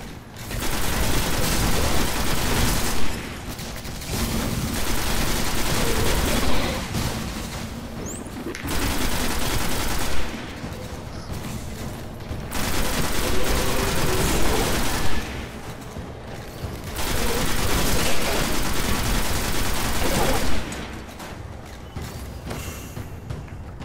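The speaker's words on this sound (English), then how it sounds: "it only takes two sniper rounds to take out those gates" Sustained, loud gunfire bursts in the video game Destiny, including sniper rifle shots, come in long dense stretches broken by brief pauses, with heavy rattling fire dominating throughout.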